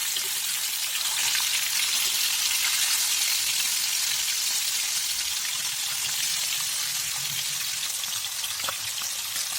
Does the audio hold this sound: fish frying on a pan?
yes